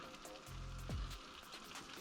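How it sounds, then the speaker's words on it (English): Soft, steady crackling sizzle of scrambled eggs in a hot pan, faint and continuous, with a low hum passing underneath. "you can hear it start to kind of sizzle"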